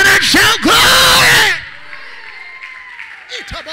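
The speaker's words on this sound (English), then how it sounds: "Clap your hand and shout glory" A church congregation shouting glory, with loud overlapping voices for about a second and a half, then fading to quieter murmuring before another voice rises at the end.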